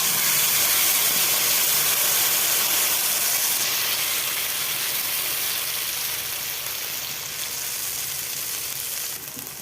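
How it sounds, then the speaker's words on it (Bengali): Spice paste hits hot oil over cumin and dried red chilli tempering, a loud broad hiss and sizzle that is strongest at first and eases slightly as it settles, with no talk. "পেস্ট করে রাখা মশলাটা আমি তেলের মধ্যে দিয়ে দিচ্ছি"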